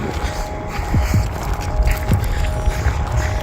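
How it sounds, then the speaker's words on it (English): Strong wind blows outdoors at Seven Magic Mountains in January, a constant broadband roar buffeting the microphone with gusty rumbles and scraping noise throughout. "It's freaking windy."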